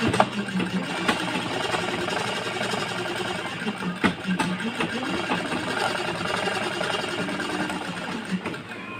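A sewing machine stitches a blouse in a steady, rapid mechanical chatter, running close and continuously with small shifts in pace.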